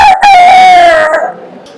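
A girl imitates a rooster crowing, one loud drawn-out cock-a-doodle-doo call close to the listener that trails off at the end.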